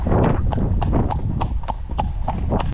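Horse hooves clip-clop on a snowy road in a quick, even rhythm of crisp close strikes over a low rumble of movement, with no talking.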